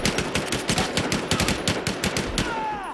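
Rapid automatic gunfire in a video game, a close, loud stream of evenly spaced shots for a few seconds before it trails off.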